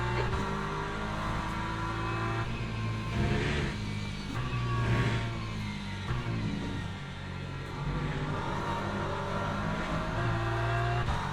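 Race cars howl around Imola in the racing game LMU, engines droning and revving continuously at close range as other cars pass, with occasional tire noise and no talk.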